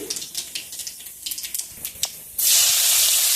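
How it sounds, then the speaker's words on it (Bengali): Black cumin seeds drop into hot oil left from frying hilsa fish koftas: a run of light ticks and pops, then a sudden loud, steady hiss and sizzle that holds to the end, close and alone without voices. "ওই তেলে কালো জিরে ফোড়ন দিয়ে দিচ্ছি"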